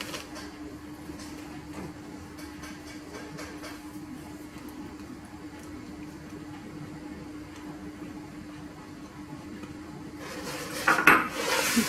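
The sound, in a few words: stirring butter and sugar mixture in a bowl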